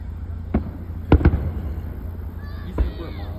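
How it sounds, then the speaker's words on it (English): Several firework booms pop in the distance, a few sharp reports spaced irregularly, with a faint voice briefly audible near the end. "You're hearing different booms because they're shooting simultaneously."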